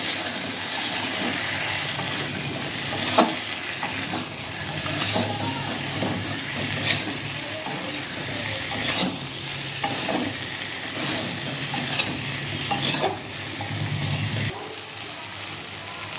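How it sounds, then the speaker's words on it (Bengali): Taro pieces sauté with spices in a hot pan for a fish jhol, a steady close sizzle and frying hiss broken by repeated scraping stirs, with no voices. "কচুটাকে মশলার সাথে কষিয়ে নেব"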